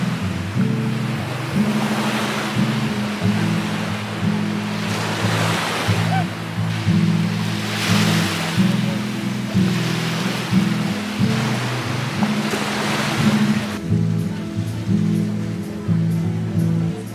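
Waves wash onto a beach in Albania at sunset, a continuous close roar of surf swelling and breaking in slow repeated surges, with a low rumbling hum running underneath.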